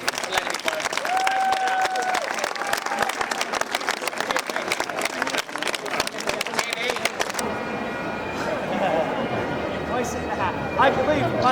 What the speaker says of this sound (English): But one thing you can afford is a huge round of applause for Jamie for letting me borrow.